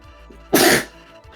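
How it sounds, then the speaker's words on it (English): A single sharp sneeze bursts out over a quiet background inside a railroad locomotive cab, brief and close, with faint low rumble before and after. "Man, stop sneezing."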